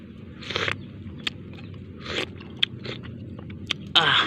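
Someone tastes a simple home-cooked Filipino budget dish, giving a few close, crisp biting and crunching sounds with a sharper crackle near the end and no talking.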